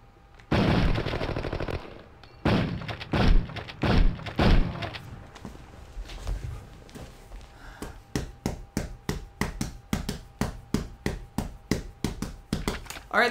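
Video game gunfire in Chicago Enforcer, a few heavy, booming shotgun blasts followed by a rapid run of sharp, evenly spaced shots, loud and close with no talk.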